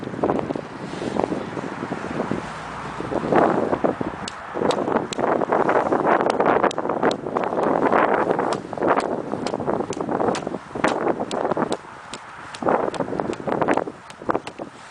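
Wind gusting outdoors around a tent, buffeting the microphone in loud rumbling waves with scattered sharp flapping and rustling clicks.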